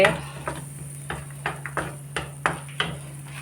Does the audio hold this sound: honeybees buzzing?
no